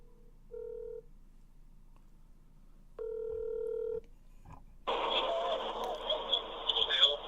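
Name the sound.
telephone dialing tones placing a call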